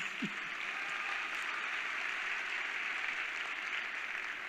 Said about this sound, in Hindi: तालियां बजा सकते हैं कोई